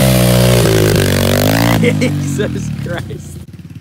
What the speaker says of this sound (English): you hear that over there? That's what a bike should sound like.